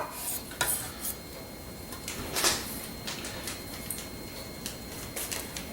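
Utensils scrape and clink against a plate as pulled pork is served onto it with lettuce, giving several light metallic taps and one louder clatter partway through over quiet room noise.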